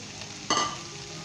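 Chopped green chilies and coriander go into frying maash dal in a pan, a steady low sizzle broken by one sudden burst of hissing and stirring in the middle.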